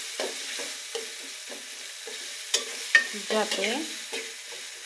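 Spices and ground cumin paste stir-fried in a pan for a chicken and snake gourd curry, giving a low sizzle broken by scraping spatula strokes and a few louder clatters near the middle, with a brief word spoken.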